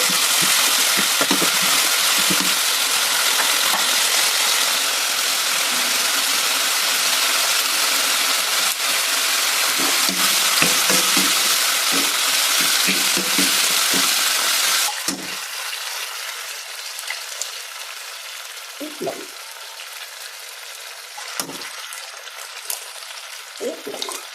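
Sardines and egg fry in a pan with a loud, dense, continuous sizzle that softens after about fifteen seconds, with occasional clatters of stirring.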